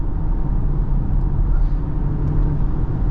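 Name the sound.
2023 BMW X3 driving, 8-speed automatic transmission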